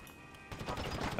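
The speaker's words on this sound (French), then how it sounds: "je vois pas d'où ça tire là par contre" Gunfire in a first-person shooter match, a muffled volley of shots that swells into louder, denser firing in the second half with a sharp burst at the end.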